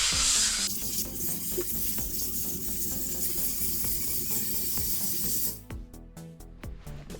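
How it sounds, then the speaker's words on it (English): A brush scrubs cleaner off a canvas car soft top in rapid rhythmic back-and-forth strokes, a close, continuous scratchy swishing that thins into a few separate strokes at the end. "so let's scrub it off"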